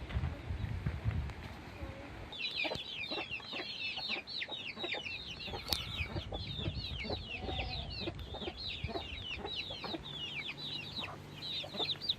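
Several free-roaming village chickens cluck and chatter close by in a busy, overlapping chorus on a hillside village in Samandağ, Hatay, with occasional thumps and rustling in the background.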